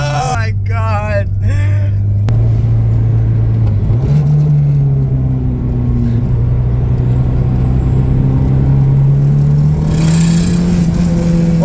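A Mazda Familia accelerating hard with a loud, steady engine drone that rises in pitch as the tires lose grip. Excited voices shout briefly near the start.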